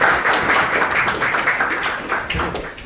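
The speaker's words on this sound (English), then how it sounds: "let's give the room a round of applause" A meeting room of people applauds at the close of a talk, a short burst of dense clapping nearby that thins slightly toward the end.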